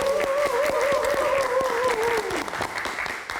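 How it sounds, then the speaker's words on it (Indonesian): A live studio audience claps in sustained, dense applause during a Midnight Live podcast show, with a tonal musical sting over it and the applause tapering near the end. "Oke, kita kasih tepuk tangan sekali lagi."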